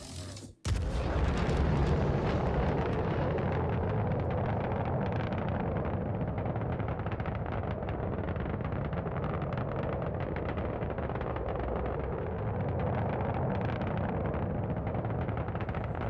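Torpedo explosions in the space-combat game Star Citizen: a sharp blast opens, then a loud, sustained roaring rumble with crackling texture rolls on unbroken, with no voices.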